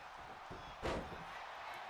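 A wrestler stomps an opponent's back in WWE 2K25, heard as one sharp, heavy slam that stands out over low arena crowd noise, with a smaller thud just before it.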